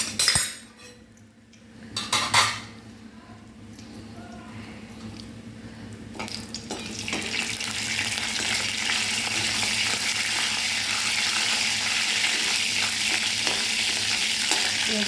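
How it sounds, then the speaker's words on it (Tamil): Cinnamon, cloves and fennel sizzle steadily in hot coconut oil for a dal-free sambar, after a few early clinks and stirring taps of a utensil in the pan; the frying hiss swells and stays loud and even. "தேங்காய் எண்ணெய் ஊற்றிட்டு பட்டை, லவங்கம், சோம்பு போட்டு தாளிச்சிக்கணும்."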